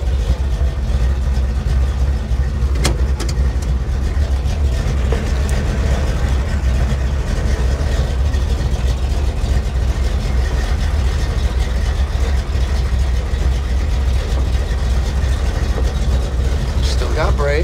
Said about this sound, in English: let's see if this Falcon pile will fire up.